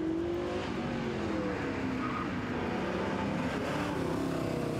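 A 1965 Ford Mustang Fastback race car at a hill climb roars past, its engine note droning loudly and steadily throughout with a hint of tyres scrubbing as it locks up under braking.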